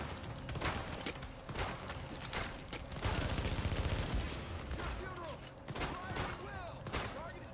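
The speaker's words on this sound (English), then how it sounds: "Oh, I'm being hit by a sniper." Dense video-game gunfire from The Division, including sniper shots, comes as rapid overlapping bursts of shots and booms that go on throughout, loud and close with a busy battle backdrop.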